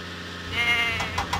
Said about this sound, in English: Help Cranky find the goats.